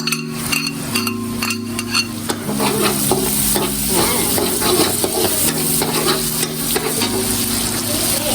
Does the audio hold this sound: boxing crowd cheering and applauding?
no